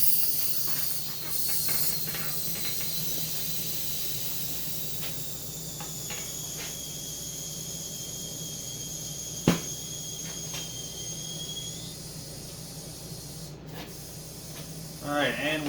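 Air hissing steadily into a dune buggy tire after new valve stems are fitted, a continuous close spray-like hiss with a few clicks and a sharp knock partway through.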